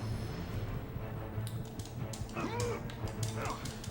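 Snarling, yipping dogs in the God of War 2 video game, several short barks and whines over low game rumble, with a voice talking over them.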